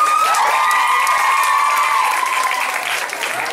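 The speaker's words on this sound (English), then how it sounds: "Can I get a round of applause, please?" An audience at a cultural presentation breaks into loud, steady applause and cheering that fills the whole stretch, with a sustained whooping voice riding over the clapping.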